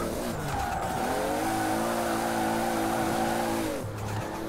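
Toyota Supra drifting in Forza Horizon 4, played on a wheel: a strained, droning engine holds high revs under continuous tire squeal, then shifts pitch near the end.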